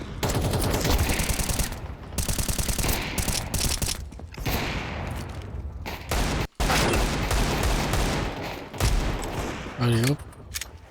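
Rapid automatic gunfire in the video game Apex Legends, loud continuous bursts with brief pauses, mixed with game effects and someone talking over it.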